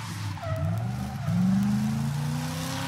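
A low-powered drift car slides at a drift event on the Czarna Góra course, its tires squealing in long rising tones over the engine's rev, loud and close, with no talk.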